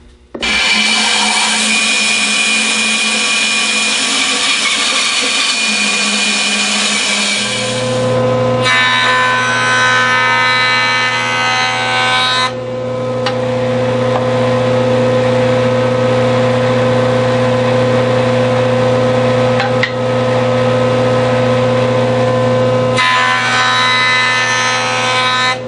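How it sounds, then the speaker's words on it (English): A wood jointer planes the edges of a workpiece for a bottle stopper project, giving a loud steady motor whine with a cutting roar that shifts in pitch as the board feeds through, continuous and close. "We're going to clean it up on the joiner"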